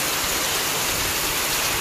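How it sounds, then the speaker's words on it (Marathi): Steady rain falls in a dense, even hiss with no gaps, continuous across the short stretch during an intermittent monsoon downpour. "पाऊस काय सरळ लागत पण नव्हता. 5 मिनिटं येते, 5 मिनिटं जाते."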